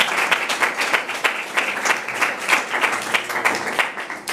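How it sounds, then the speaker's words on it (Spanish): A room of listeners at a success-story talk breaks into clapping, a dense, fairly loud round of hand claps with a few sharper individual claps standing out, lasting several seconds. "les pido un aplauso, por favor, para Juan."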